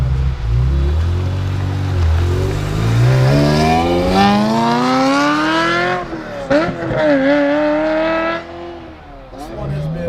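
A modified Ferrari F355 GTS with a manual gearbox revs hard from inside the car, the engine note climbing through gears with brief dips at each shift, loud and close.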